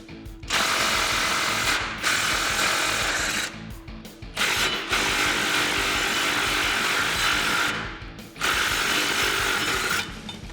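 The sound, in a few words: ratchet removing nuts from Jeep Gladiator bumper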